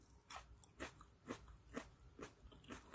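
Blanched sweet potato stems are bitten and chewed up close, about six crisp crunches spaced in a steady rhythm, fairly quiet, with no talking.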